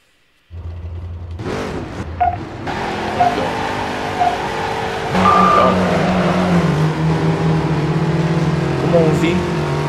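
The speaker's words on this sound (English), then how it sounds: "By holding down the handbrake and the gas, you'll smoke your tires." A video game car in Midnight Club DUB Edition revs and spins its tires in a burnout, a steady engine roar that climbs and holds, with a beep partway through and people talking over it.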